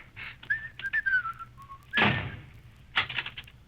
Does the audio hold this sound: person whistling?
yes